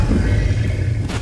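A dragon in a video game lets out a loud, deep, rumbling roar that fills the whole short moment.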